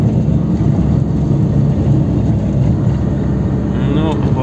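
Loud, steady road rumble from a car driving through fog while towing an empty trailer, a constant low drone of engine and tyres with no break over the few seconds.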